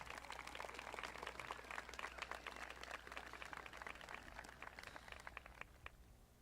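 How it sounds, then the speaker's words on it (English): A graduation audience at Greeley West High School gives student speakers another round of applause, a faint, distant patter of many hands clapping steadily with no break. "Let's give her and all of our student speakers one more round of applause"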